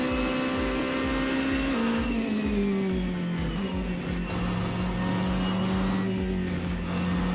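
LM Hypercar A480 engine in Assetto Corsa, a loud steady droning whine holding pitch, dipping slightly as it shifts, with continuous road and mechanical rush underneath.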